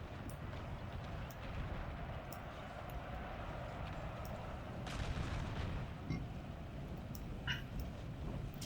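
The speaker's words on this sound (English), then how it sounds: "He's got his 6-pounder here, 6-pound foot artillery." Six-pound foot artillery in Napoleon Total War booms faintly in the distance, with a few scattered shots and cracks over a constant low battlefield rumble.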